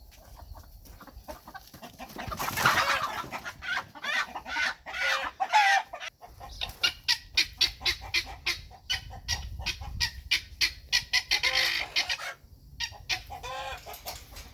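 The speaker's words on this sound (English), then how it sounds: "chickens have already found this plowed up soil" Chickens cluck steadily while scratching through freshly plowed garden soil on a Texas homestead, with repeated close, lively calls and a few louder squawks over a quiet outdoor background.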